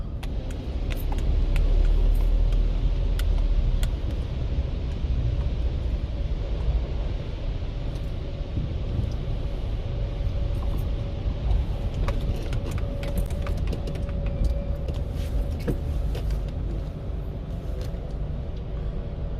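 Automatic car wash machinery runs steadily at a European self-service car wash, a continuous low mechanical rumble with scattered clicks and rattles heard from inside the car, no talk.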